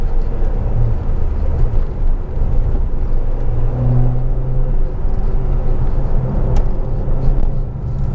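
A 2010 Peugeot RCZ automatic drives uphill on a misty, wet hill climb, its engine a steady low rumble from inside the cabin, shifting up through gears with slight changes in pitch.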